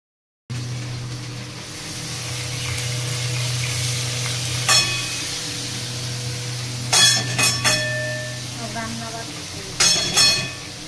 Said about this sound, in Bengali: ওদিকে রান্না বান্না চলছে